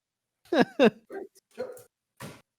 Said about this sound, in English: I heard some barking